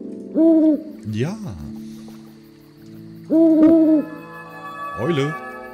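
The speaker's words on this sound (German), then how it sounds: "Eule." A video-game owl hooting in Rusty Lake Paradise: two loud, close, wavering hoots, each followed by a lower sliding cry, the pairs repeating about three seconds apart against a quiet backdrop.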